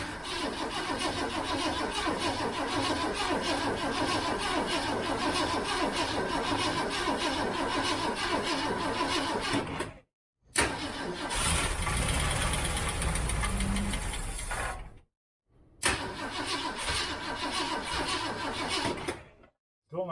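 A 1967 Ford Mustang with a 390 engine cranks repeatedly without catching, likely starved of fuel, in three long rhythmic churning attempts separated by brief silences.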